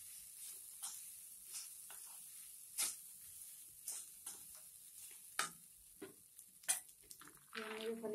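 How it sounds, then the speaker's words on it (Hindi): Poha being stirred and mixed in a pan on the stove: soft scraping strokes of a spatula recur every second or so against a faint low sizzle, quiet overall with a few sharper clinks. "साथ ही हम इसमें पोहा डाल देंगे और इसको अच्छे से मिक्स करेंगे"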